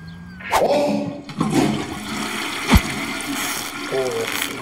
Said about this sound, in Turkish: Sifonu niye çektim?